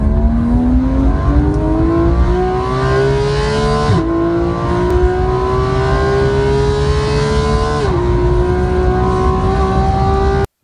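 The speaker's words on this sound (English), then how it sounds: "That glorious sound was a naturally aspirated flat-six Mesger engine that was heavily reworked by Ruf Automobile to power the incredible RGT" A Ruf RGT 4.2, a GT3-based Porsche 991 911 with a heavily reworked naturally aspirated flat-six Mezger engine, revs loud and close, its pitch climbing steadily through two gearshifts with brief dips, ending in a sudden cut.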